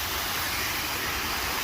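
Blue Heron Lake waterfall pours in a steady, hissing rush, a constant broadband roar with no pauses over a brief moment.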